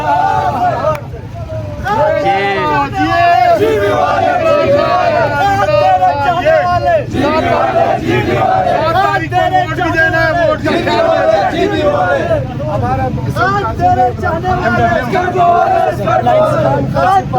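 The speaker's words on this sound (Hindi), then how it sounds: "जिंदाबाद नारे।" A large political rally crowd of party supporters chants slogans in loud, continuous unison, voices massed and close with rhythmic surges and no break over the whole stretch.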